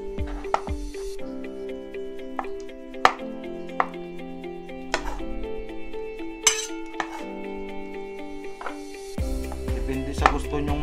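Knife cutting avocado into cubes on a board for poke, a series of sharp, separate chops and clinks of varying loudness, close up, with a ringing tonal background.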